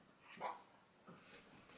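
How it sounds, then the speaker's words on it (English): A very small dog gives a couple of faint, brief high whimpers in a quiet indoor room, each lasting under half a second, with no talking. "it's a very small dog."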